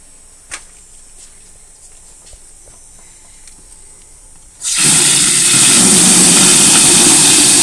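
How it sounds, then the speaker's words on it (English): A water pump at a Dollar General store in Curtis, Michigan starts up after quiet ticking, then runs with a loud, steady rushing hum that holds constant to the end. "So the pump's working, it's maintaining pressure."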